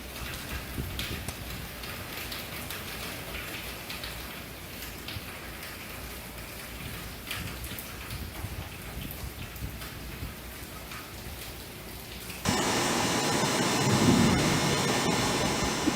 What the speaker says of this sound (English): You can see the rain was coming down in sheets and blowing across the parking lot.